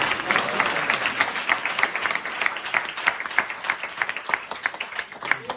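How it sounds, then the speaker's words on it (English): An audience at a spiritual lecture on the Bhagavad Gita claps together in a lively round of applause, dense and even throughout, with no voices over it. "Give Janmastami Guru a round of applause."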